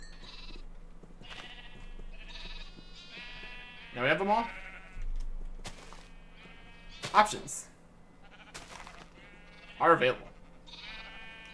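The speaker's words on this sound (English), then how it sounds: "So we successfully managed to get the last colors of sheep." Sheep in a multiplayer survival video game bleat three times, at separated moments, each a short wavering cry standing out over a soft background hum while a person talks throughout.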